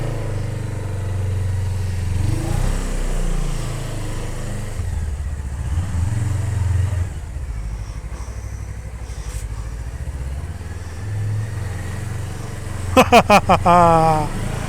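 A motorcycle engine rumbles steadily and close while being ridden along an uncertain road near Yazd, Iran. The rider talks over it, and a few sharp chirps come near the end.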